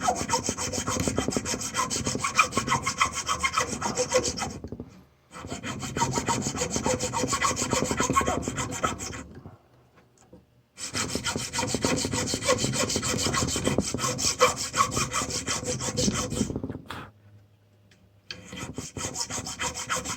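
A bone saddle blank being sawn down into tenor guitar nuts makes steady rasping saw strokes in three long sustained runs with brief silent breaks between them. No one speaks.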